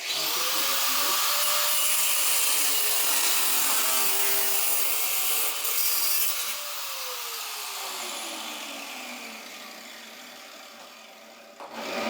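A saw cuts through a Schluter aluminium profile with a loud, high, gritty whine that shifts in pitch as the blade bites, then eases and winds down near the end.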